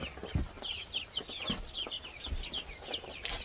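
Backyard chickens, including a new Silkie, cluck and chatter in short repeated bursts at close range, with soft rain and outdoor ambience underneath and no one talking.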